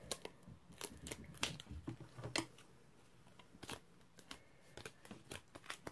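Scissors trim excess card from a shaker tag made with a die, giving a quick series of soft, close snipping cuts with a brief pause midway.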